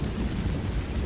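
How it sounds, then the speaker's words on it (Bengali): A nighttime storm with heavy rain and a low thunder rumble, a dense steady wash of rainfall over deep rolling noise, continuous and fairly quiet. "বেলারানী তখন ঝড় বৃষ্টির মধ্যে খদ্দের দেখে বেশ খুশি হয়"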